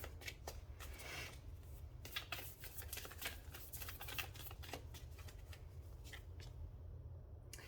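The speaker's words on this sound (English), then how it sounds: "Let's get some oracle advice for you." Oracle cards being shuffled for a tarot reading, a soft, steady riffling and flicking of cards, close and quiet, with no talking.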